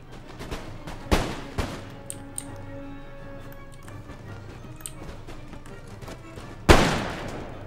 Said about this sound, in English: Howitzers fire on them